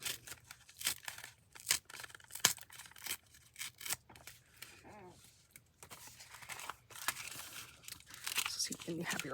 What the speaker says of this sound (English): going to just make a little tear along the top of this edge here